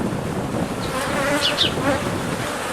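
Honeybees busy at a hive entrance, a dense steady buzzing hum with individual bees zipping close past, continuous and fairly loud with no talk.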